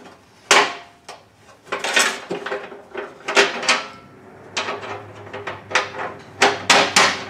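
Metal hinges are pushed and knocked into the notched slots of a storage tailgate, giving sharp close clacks and knocks at an irregular pace, with quieter shuffling handling between them.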